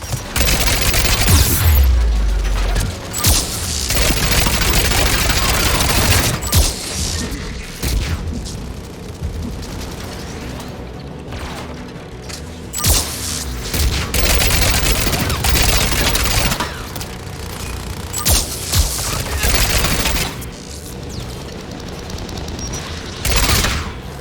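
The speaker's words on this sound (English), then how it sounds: "Anti-aircraft guns are up ahead." Anti-aircraft guns firing in the video game Mass Effect 3, heavy booming blasts in rapid clusters over a dense rumbling battlefield din, loud and sustained, with brief lulls between bursts.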